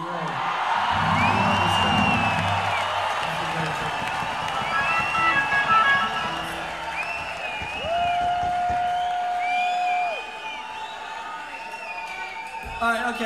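A rock club crowd at a concert hall in Columbus, Ohio, cheering, whooping and applauding loudly, with the noise settling partway through as someone talks over a microphone.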